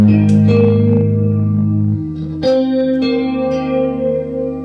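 Electric guitar played through a chorus effect with reverb and delay switched off, sustained chords giving a wide, swirly shimmer, close and loud, with a few new chords struck over ringing notes.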